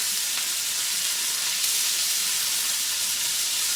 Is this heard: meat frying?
yes